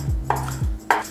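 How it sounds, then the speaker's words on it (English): A knife chops spring onion on a board, two or three crisp close thuds spaced about half a second apart, with no talk. "We're gonna cut up the spring onion."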